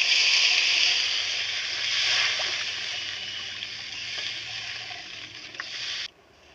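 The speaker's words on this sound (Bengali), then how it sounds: "এবারে জল দিব।" Water pours into frying spiced masala for a homestyle salted fish curry, giving a steady bright hiss and sizzle that carries on for several seconds before stopping abruptly, with faint clinks along the way.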